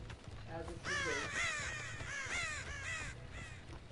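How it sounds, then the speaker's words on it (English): Crows caw in a video game, a run of harsh, repeated caws in close succession, fairly loud, with faint talk in the background. "Does this spoil all the crows?"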